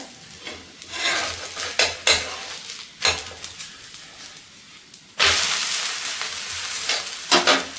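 A sabudana potato paratha roasts on a pan over a medium flame, with soft sizzling, scraping and clinks of a spatula as it is turned, then a louder burst of frying.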